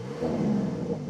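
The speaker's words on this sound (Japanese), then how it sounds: "あ、マフラーサウンド。" A Porsche 911 Carrera GTS exhaust blips at idle, a low rumbling rev that swells briefly and then settles back, heard moderately close with no talk over it.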